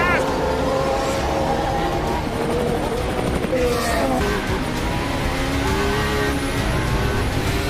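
Formula 1 race cars in a video game scream away from the start, high engine whines layered and shifting in pitch as cars pass, loud and continuous under excited commentary.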